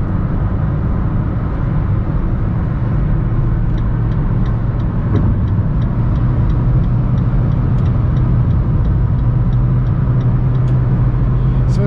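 A 2021 Fiat Strada Volcano accelerates in fifth gear, its engine a loud, steady drone heard up close that builds gradually, with a faint ticking over the top.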